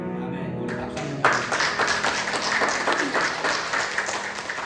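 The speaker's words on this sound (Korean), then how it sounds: "우리 박수 한번." Applause from a church congregation right after worship, starting with a brief tail of voices, then sustained dense clapping for several seconds at steady volume.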